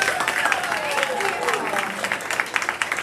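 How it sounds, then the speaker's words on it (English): An audience at a senior awards ceremony claps steadily for twelfth-grade students, loud and continuous throughout, with voices and crowd sounds mixed beneath the applause. "let us all collectively applaud you"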